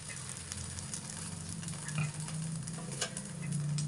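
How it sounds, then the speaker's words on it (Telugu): Two ladles of dosa batter poured onto a hot pan and spread for onion uttapam, with a steady close sizzle and scraping strokes of the ladle across the surface, no voices. "ఇలాగా రెండు గరిటెలు దోశ పిండి వేసుకోవాలి కొంచెం ఇలా స్ప్రెడ్ చేసుకోవాలి"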